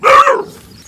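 A single loud, rough bark or roar from one of a roaming pack of street dogs, close and short, fading quickly into quiet.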